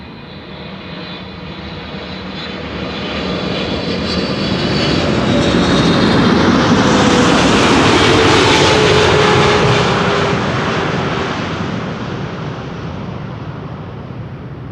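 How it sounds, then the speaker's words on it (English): A KLM Boeing 777-300 airliner arriving at Amsterdam Schiphol swells from a distant rumble into a loud broadband jet roar as it passes overhead, then fades steadily away. "This is KLM Flight 758 arriving from Panama City"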